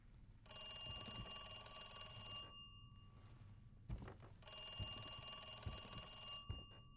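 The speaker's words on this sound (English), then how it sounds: "Old rotary phone." An old rotary phone in the Resident Evil 2 video game rings with a bright, metallic bell in two long bursts separated by a short pause, with soft thuds and faint game ambience underneath.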